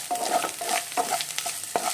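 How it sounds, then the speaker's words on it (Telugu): Ginger garlic paste frying in hot oil in a pan, soft steady sizzle broken by several quick stirring scrapes at an even rhythm, close and alone without talk. "అల్లం వెల్లుల్లిపాయ పేస్ట్ ఇప్పుడు మంచిగా ఫ్రై అయితే అయిపోయింది కదా"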